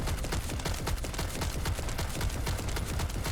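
Sustained rapid gunfire from The First Descendant video game, a loud, dense stream of shots with no pauses and no voices over it.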